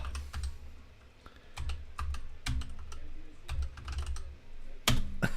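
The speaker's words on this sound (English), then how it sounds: "Oh god, we have to type that in now." Keys clacking on a computer keyboard while a character name is typed in for the online game EverQuest, delivered in uneven bursts of crisp close clicks and taps over a quiet low hum, with no talking.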